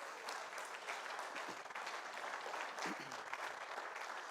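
A church congregation applauding steadily for a few seconds, a dense, fairly distant patter of many hands clapping without a break.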